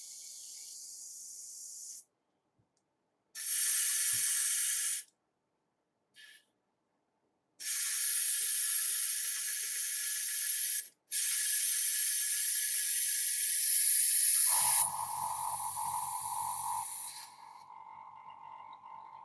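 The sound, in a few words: airbrush being cleaned with alcohol and airbrush cleaner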